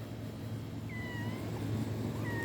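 A cat meows in a garden, two drawn-out faint cries over a low steady hum, the second near the end, with no speech.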